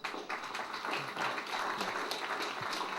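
An audience at a lecture by Professor Trevor Munroe on youth and corruption in Jamaica gives a round of applause, a brief, steady patter of many hands clapping at moderate volume from start to finish.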